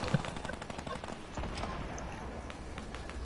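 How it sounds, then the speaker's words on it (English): Gunfire in Fortnite, faint rapid shots crackling steadily through a dense background of game noise, distant rather than close, with scattered brief talk. "They just shooting now."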